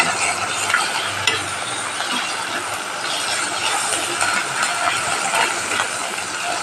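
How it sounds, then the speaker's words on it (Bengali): Ginger, garlic, cumin, coriander, salt, turmeric and sugar stir-fried together in oil in a pan, a steady close broadband sizzle with continuous scraping and stirring throughout, no voices. "এটা একটু কষাবো ভালো করে কষবো হবে ধার ধারে যাতে তেলটা বেরিয়ে আসে"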